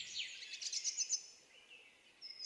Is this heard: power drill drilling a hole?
no